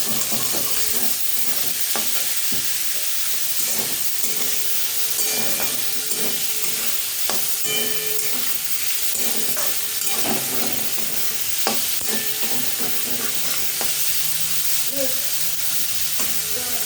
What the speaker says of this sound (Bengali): কুচি রাখা পেঁয়াজটা লাল লাল করে ভেজে নিই